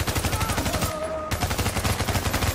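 Rapid automatic gunfire in The Division, loud close bursts of evenly spaced shots rattling almost continuously, broken by a short pause before the firing resumes.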